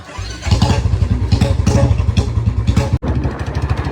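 A Royal Enfield Bullet motorcycle engine runs outdoors with a steady, close, loud thumping pulse, briefly cutting out once before the rhythmic beat resumes.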